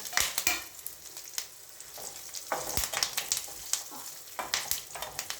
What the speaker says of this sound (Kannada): ಹಾಗೂ ಉಪ್ಪು, ಕರಿಬೇವು ಈಗ ಬಾಡಿಸ್ಕೊಳ್ಳೋಣ ಬೇಗ